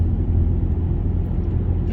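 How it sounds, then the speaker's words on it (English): A loaded, covered coal truck passes the other way on a Kentucky mountain road between Harlan and Cumberland, a deep steady rumble heard from inside a moving vehicle. "Here comes a coal truck going the other way."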